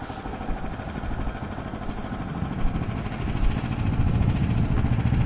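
Out in a snowy winter forest, a vehicle engine idles with a rough mechanical clatter, then revs up by itself, growing louder over the final seconds.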